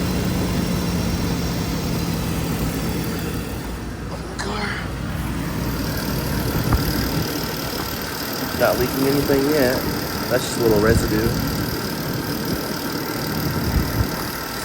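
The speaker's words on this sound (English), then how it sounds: "That sound is probably my Vanos or something that I need to address" A BMW E39 530i idles with a possible Vanos noise, a steady low engine rumble running underneath someone talking nearby.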